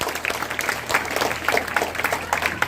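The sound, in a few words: applause at school archery competition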